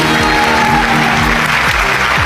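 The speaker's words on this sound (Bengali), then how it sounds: "আর জোরে হাততালি, জোরে!" An audience claps loudly and steadily throughout a live entertainment show, a dense wash of applause with no break.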